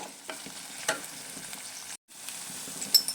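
Raw prawns and onions fry in a pan for a prawn curry, a steady close sizzle broken by stirring scrapes and a brief gap.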